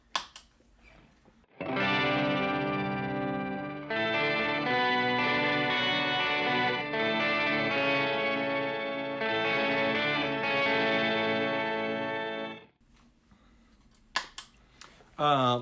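Electric guitar run through an Earthquaker Devices pedal set as an octave effect, ringing out in sustained chords for about eleven seconds, loud and close, with brief handling noise before and after.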